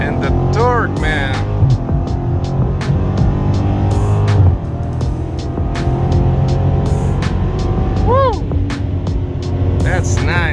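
A Dodge Challenger accelerates from about 30 on an open road in Mexico, its engine drone loud and continuous, with harmonics that climb and dip as it pulls.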